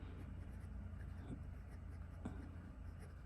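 A Visconti Mirage Mythos Poseidon fountain pen with a medium nib scratches across paper in soft, close strokes with faint taps, quiet and steady against a low background hum.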